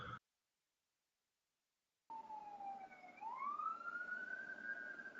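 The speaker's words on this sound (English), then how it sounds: "Here comes the ambulance to move us to the next slide." An ambulance siren sound effect starts after a short silence: a single wailing tone that dips and then rises in a long sweep, moderately loud and alone.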